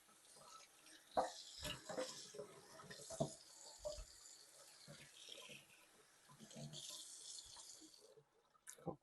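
Rice grains being rinsed by hand in water at a sink for coconut rice, with sloshing and splashing in irregular bursts, close and moderately loud, fading near the end.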